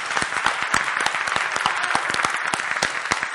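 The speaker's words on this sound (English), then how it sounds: "Give them a hand clap." Congregation clapping in a church service, a steady burst of many hands with distinct sharp claps standing out, loud and close throughout.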